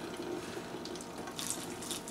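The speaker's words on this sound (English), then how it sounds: "I notice the water is kind of running along" Water running from a small pot into a kitchen sink while mashed potatoes are prepared, a steady gentle splashing trickle that sounds close and continues throughout with no talking.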